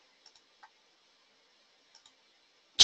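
Faint, sparse computer mouse clicks, a few light taps spread out with quiet gaps, ending in a sharp louder click at the very end.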